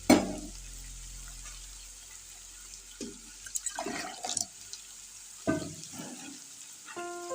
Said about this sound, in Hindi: तो मैं इसमें 2 मग पानी के डाल दे लगी हूँ